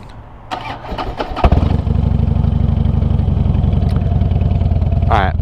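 A Harley-Davidson Fat Bob motorcycle cranks with a few clattering starter bursts, then fires into a loud, steady, close-up idle with a deep pulsing beat that continues to the end.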